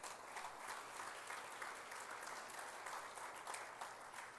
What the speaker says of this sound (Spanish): Le damos un aplauso a nuestro Padre Celestial.